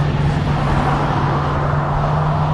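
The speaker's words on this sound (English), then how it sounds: "I hear something insane right behind me. Is that like the biggest truck?" A very large truck passing on a road in Japan sends up a loud, heavy, steady rumble with a strong low hum, holding close and constant, with no speech.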